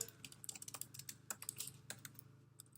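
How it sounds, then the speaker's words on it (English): Rapid typing on a computer keyboard while entering a road name into a map search, with close, crisp key clicks in an uneven burst throughout. "So I'm going to type in Ice House Road"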